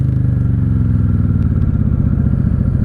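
A 1995 Honda Shadow VLX 600 V-twin motorcycle idles close by, with a loud, even, rapid low-pitched pulsing beat and a light mechanical clatter, heard on its own without speech.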